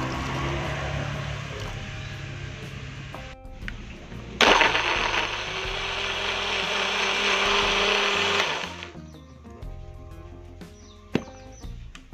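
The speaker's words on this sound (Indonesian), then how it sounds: "Langsung saja kita akan memblender bumbunya." An electric kitchen blender grinds spice paste with a little water for crab soup, giving a loud, steady whirring roar in two long bursts separated by a short pause, then winding down.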